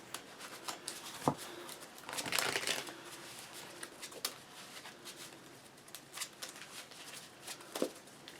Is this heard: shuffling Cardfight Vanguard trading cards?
yes